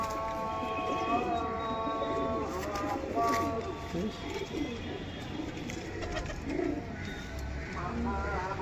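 An open-tailed pigeon coos at close range in repeated soft, throaty phrases, while people talk over it nearly throughout.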